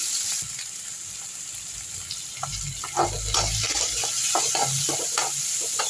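Mustard seeds, urad dal and onion frying in a little oil for a brinjal thokku, with a loud steady sizzle broken by spattering pops and the scrape of stirring, no voices.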